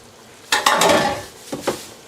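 Paste being stirred into simmering beef brisket with daikon in a pot, a brief loud scraping swirl followed by two short utensil knocks, close by with no talk.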